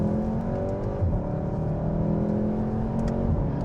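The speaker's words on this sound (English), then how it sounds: "And listen to the upshifts." A 2019 VW Golf R with a DSG gearbox accelerates hard, its engine droning loudly from inside the car, with quick shifts marked by small pops and crackles from the exhaust.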